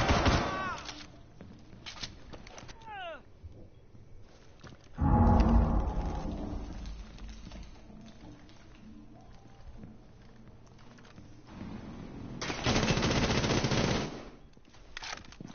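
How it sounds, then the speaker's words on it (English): Bursts of automatic gunfire as the operator Ash shoots in a Rainbow Six Siege match, sharp loud volleys clustered near the start, middle and end, with quieter in-game ambience between. "Imagine this freaking Ash is trying to shoot through a mirror."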